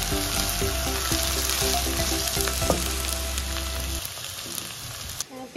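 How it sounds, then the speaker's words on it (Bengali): Onion frying in oil for a festive home meal, a loud close sizzle with a low steady hum beneath that cuts out near the end, leaving quieter crackling. "পেঁয়াজটা ভাজা হতে হতে"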